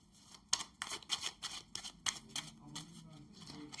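Tarot cards are drawn from a deck in quick papery slides and flicks, a series of soft, close swipes with brief gaps between them, no talk.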